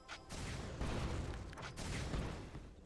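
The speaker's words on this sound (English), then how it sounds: "I chase him down and get into position to land two more shots from Missile Barrage" Corki firing Missile Barrage shots in League of Legends while chasing an enemy champion, a dense run of overlapping blasts and explosive bursts lasting nearly three seconds with no voices.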